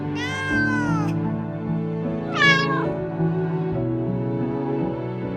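A cat meows twice, loud and close, the cries rising then falling, over a steady low background tone.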